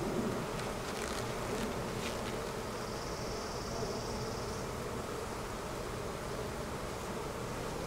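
Honeybees hum steadily at a hive that is preparing to swarm, a dense continuous drone at moderate level with no pauses and no voices.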